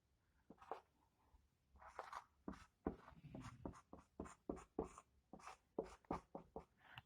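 A pen writes out notes in short, rhythmic scratchy strokes, close and quiet, with a brief pause near the start and no talking.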